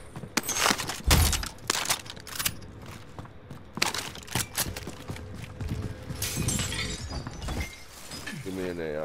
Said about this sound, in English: they broke the glass